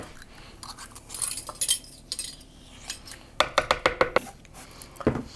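A spoon scrapes and clinks inside a nearly empty container while banana peanut butter waffle batter is mixed, with a quick run of sharp, evenly spaced taps near the end.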